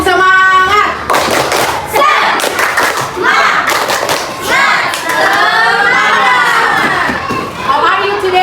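Students in a classroom perform the tepuk semangat chant, loud rhythmic bursts of clapping mixed with children shouting the chant words together in quick patterned beats, the group voices and hand claps alternating energetically.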